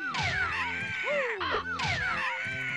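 Crows caw repeatedly in the Banjo-Kazooie video game, a loud cluster of harsh, descending caws arriving in quick overlapping bursts over a steady game soundtrack.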